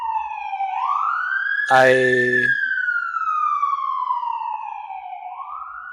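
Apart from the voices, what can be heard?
passing emergency vehicle sirens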